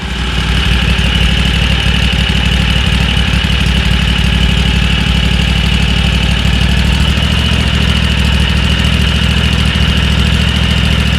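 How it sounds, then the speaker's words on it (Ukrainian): A Loncin LC2V90FD 35 hp V-twin engine idles steadily up close for about eleven seconds, a loud continuous drone with a fine mechanical rattle and no talking. "це холостий ход"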